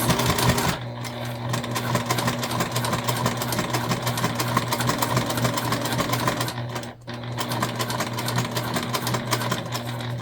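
A sewing machine runs steadily, stitching the zipper box of a multi-panel tote bag, its fast mechanical chatter close and loud with a constant motor hum, pausing briefly near the end before resuming.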